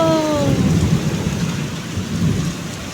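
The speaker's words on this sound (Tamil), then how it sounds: "ஆலங்கட்டி மலை எங்கே பாருங்க" Dense, steady hail and rain pounding on surfaces with a low rumbling undertone, loud and close, with no voices.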